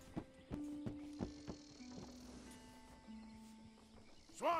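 Horse hooves clop in slow, uneven steps in a Red Dead Redemption 2 game scene, with a brief snort or whinny at the end, set against quiet ambient background.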